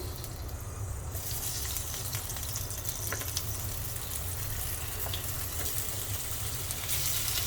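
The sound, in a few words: green tomatoes added to hot oil in pan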